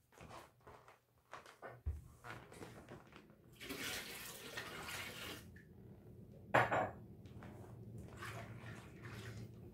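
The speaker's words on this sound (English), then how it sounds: "So I'm going to pour a little bit more room temp water because I need a little bit more water." Room-temperature water pours and splashes into a washing tub in a couple of rushing bursts, with a few soft knocks and clatters nearby.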